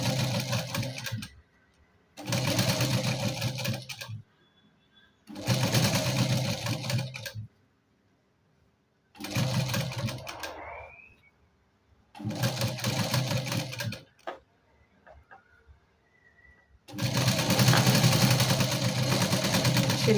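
A sewing machine stitching a katori blouse at the neckline, running in six steady bursts of several seconds each, separated by short pauses, close and moderately loud.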